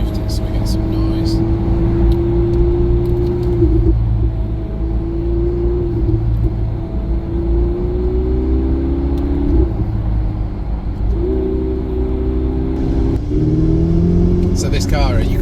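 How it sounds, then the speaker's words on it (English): Ferrari engine revving on ice while being short shifted, a loud, close drone that climbs in pitch through each gear before dropping at the changes, repeating over several shifts with voices talking underneath. "Just short shift it so we get some noise."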